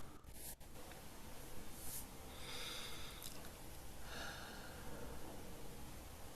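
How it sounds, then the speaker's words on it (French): Slow, deep breaths drawn in and let out during a guided breathing exercise with eyes closed, three long soft airy inhales and exhales spread across a quiet room, close and faint, with no talking. "on va prendre 3 profondes inspirations"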